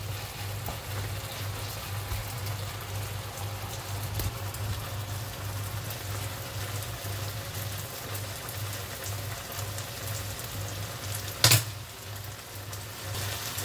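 A gratin sizzles steadily as it grills, giving an even, rain-like crackle with a low hum underneath and one sharp knock near the end.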